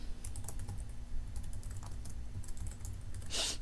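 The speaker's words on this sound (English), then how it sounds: "you're going to type in the student's last name, comma, first name" Typing on a computer keyboard with a quick run of light, close key clicks and a louder tap near the end, over faint room hum, no talking.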